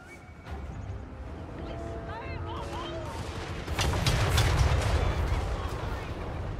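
Battlefield gunfire from the strategy game Total War: Warhammer III, with a Grand Cathay army in combat. Scattered shots grow into a louder, denser volley partway through, and horse-like whinnies and a voice are also heard.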